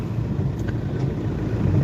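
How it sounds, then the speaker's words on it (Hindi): Road traffic in a traffic jam, heard from inside a moving car: a steady, close low engine and road rumble that continues throughout with no clear separate events. "थोड़ा ट्रैफिक जाम है,"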